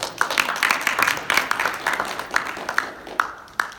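Applause from a small audience at a business panel on building a brand, with scattered individual claps peaking and tapering off over a few seconds, fairly close and moderately loud.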